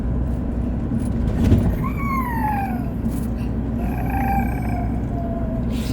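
A Toyota Revo 2.8 4x4 pickup truck drives at speed, its engine and road noise forming a steady low rumble throughout, with a few rising and falling squeaky tones overhead.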